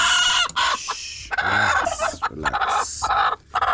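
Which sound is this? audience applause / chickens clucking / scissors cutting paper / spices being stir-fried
chickens clucking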